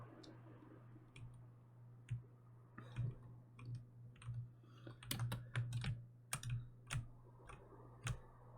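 Keys tapping on a computer keyboard, a quiet uneven run of soft clicks that grows busier midway, heard alone over a low steady hum.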